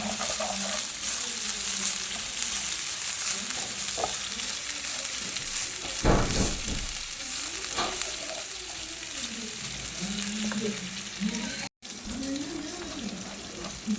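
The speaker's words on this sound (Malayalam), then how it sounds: "തേങ്ങ നമുക്ക് വറുത്തെടുക്കാം" Grated coconut roasting in a frying pan for goat head thoran makes a continuous close sizzle, broken by stirring scrapes and a sharp clink partway through.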